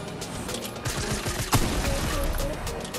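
Rapid bursts of gunfire sound in a Fortnite match, dense and continuous for a few seconds, mixed with game noise and players' voices.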